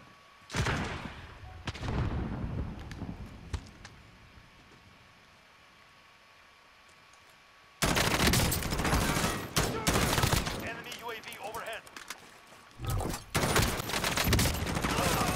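Bursts of rapid automatic gunfire crackle in a Call of Duty: Warzone match. Loud volleys come in at the start, then a quieter stretch, then heavy sustained firing with a voice talking over it.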